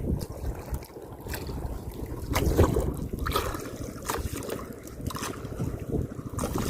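Steady engine drone and splashing water from a motorboat (bangka) on open sea, with gusty wind buffeting the microphone throughout.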